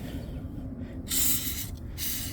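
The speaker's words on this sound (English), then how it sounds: "we've got the chain lubricant, and this red hose on here, and just spray it" Two short hissing bursts of chain lubricant sprayed onto a motorcycle chain, the first longer than the second, over a low steady background rumble.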